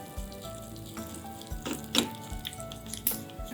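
Oil sizzles softly in a pan as a spice tempering with finely chopped green chillies is stirred, a spoon stirring and scraping, with a few clinks and rustles at irregular moments.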